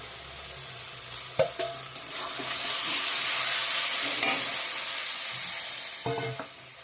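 Fried potato pieces go into a sizzling mushroom curry in a pan, with a few knocks and scrapes from the spoon and then a broad, loud sizzle that swells and fades.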